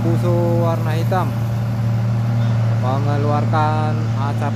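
A black Isuzu truck's engine idles with a steady low hum throughout while people talk over it in two stretches.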